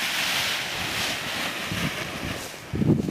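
Wind gusts across a paraglider launch site, a steady broadband rush buffeting the microphone, swelling into a stronger low gust near the end.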